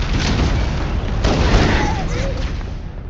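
Gunfire in Halo: Combat Evolved sounds as a dense, continuous stretch of booming shots and blasts in a noisy battle scene, with a few voices and effects mixed in.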